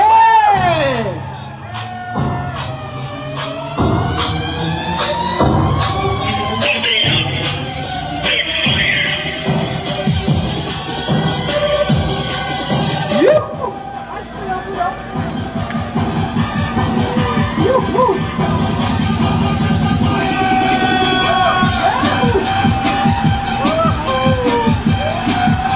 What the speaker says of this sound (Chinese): 请不要吝啬你们的尖叫声啊！